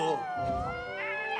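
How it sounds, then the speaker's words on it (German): Cartoon kittens meow in a spooky Halloween scene, giving a few drawn-out, wavering high cries that rise and fall over a soft rumbling background. "das sind Kätzchen"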